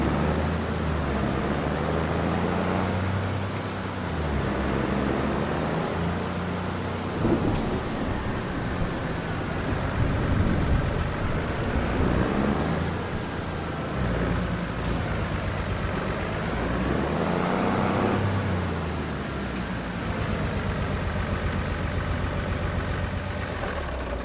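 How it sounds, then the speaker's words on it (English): Rain falls steadily in the Farming Simulator 25 game, a continuous hiss with a low engine-like rumble underneath and occasional brief cracks. No one speaks. "So how long is this rain supposed to continue?"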